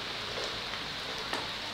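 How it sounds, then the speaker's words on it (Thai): Steady rain falls around an outdoor cooking spot where a clear mushroom soup is being made, a constant broadband hiss at moderate level with no voices. "บรรยากาศฝนตกครับท่ามกลางฝนตก"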